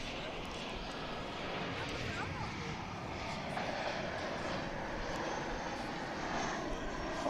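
American Airlines flight 13 in Allegheny heritage livery arrives at DFW, its engines giving a continuous broad roar at middle distance while people talk over it.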